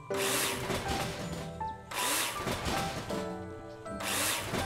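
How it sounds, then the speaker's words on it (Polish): A cordless screwdriver in Builder Simulator dismantles scaffolding with three loud, close whirring bursts, each about a second long, separated by short gaps filled with clunking parts. "Bierzemy wkrętarkę, podchodzimy sobie i zdemontuj."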